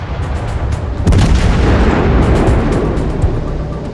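An explosion in a naval video game as a ship is destroyed: a loud, deep boom bursts out and rumbles on for several seconds, with scattered crackles in the tail.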